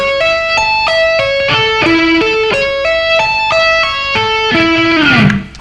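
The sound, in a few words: electric guitar tapping arpeggio played slowly, hammer-ons and pull-offs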